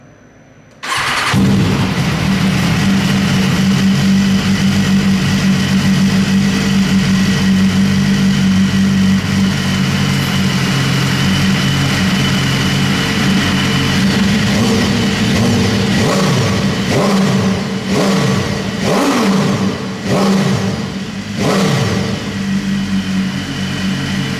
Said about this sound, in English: give you one last hear of the stock exhaust